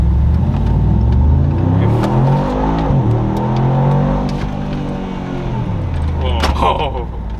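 Mercedes G63 V8 rising in pitch as it accelerates hard from low speed along a straight road in Dubai, with a deep engine roar heard from inside the cabin and people talking over it.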